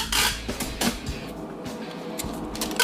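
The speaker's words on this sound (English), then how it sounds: "that's the sound of a bronze medal being packaged into a cardboard" A bronze medal being packed into a cardboard box: close, faint rustling, scraping and light knocking of cardboard and handling, with a few sharper taps and no talking.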